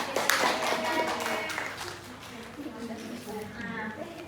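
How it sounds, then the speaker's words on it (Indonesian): A junior high social studies class claps for a classmate in a microteaching lesson, a burst of close, dense hand claps that thins out over a few seconds while voices talk alongside. "Ayo, tepuk tangan dulu buat teman kalian."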